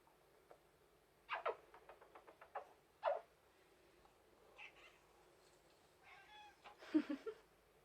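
A kitten meows softly several times, with short faint mews spaced out over a quiet background and a slightly longer, clearer cry near the end.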